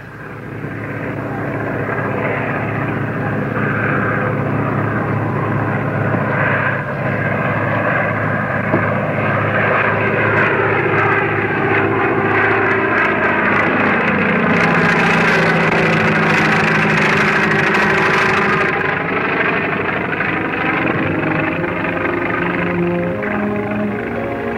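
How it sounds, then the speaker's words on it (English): A crop duster airplane's engine drones continuously and loudly, a steady rumbling hum that holds for more than twenty seconds with slight shifts in pitch. "That his airplane?"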